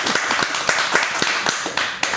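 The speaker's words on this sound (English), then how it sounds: "Round of applause for my man Imani in the building." A podcast guest gets a short burst of applause in the studio, a handful of people clapping fast and fairly close for about two seconds.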